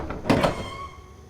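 A door opens in the horror video game Nevermind, a short creaking slide lasting about a second and then fading into a faint lingering tone, with no voices over it.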